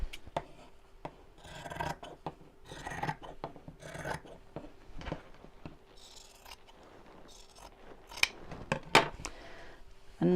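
Scissors snip and rasp through fabric while an appliqué pouch is trimmed, giving a series of close, crisp cuts in irregular bursts with no voices.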